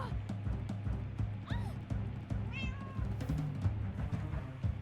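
A cat meows a few times in the Minecraft Story Mode video game, thin cries over steady game music and background ambience.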